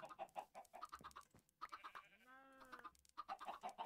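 Chickens in Minecraft cluck in short bursts, close and clear, with one rising drawn-out squawk partway through; a game recording with no talking.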